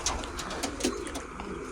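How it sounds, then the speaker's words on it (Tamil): Pigeons coo softly and repeatedly inside a pigeon loft, with brief rustles around the calls. "புறா தான் இருக்குது"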